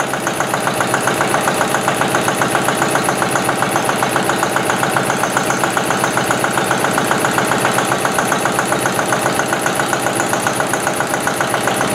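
Octane rating test engine in a fuel lab running steadily on reference blends and a sample fuel, a loud continuous mechanical drone with a fast even knocking pulse throughout, no voices.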